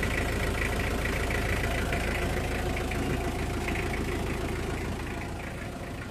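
A Mitsubishi L300 van's engine runs at idle with the clutch being worked, giving a steady low rumble with a slight knocking texture that eases a little toward the end, no voices.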